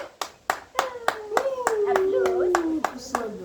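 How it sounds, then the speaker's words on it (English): Applause from an audience right after a spoken poem recital, a burst of clapping with sharp individual claps standing out, while a voice speaks over it at moderate loudness. "You deserve a hot clap."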